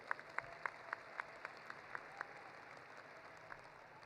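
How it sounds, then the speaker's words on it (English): Audience at a university commencement ceremony in Illinois gives a round of applause: faint, sparse, evenly spaced claps ring out over a quiet hall, thinning toward the end. "Let's give them another round of applause."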